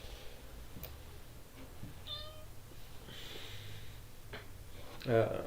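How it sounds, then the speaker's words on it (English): A quiet room with faint background noise, then a brief, sharp little cat squeak near the end, close by. "my cat just squeaked for the audience to hear."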